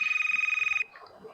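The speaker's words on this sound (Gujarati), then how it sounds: "ઘણો ફોન આવે છે યાર" A phone rings with a bright, rapidly pulsing electronic tone for under a second, then cuts off, leaving faint room noise and soft movement.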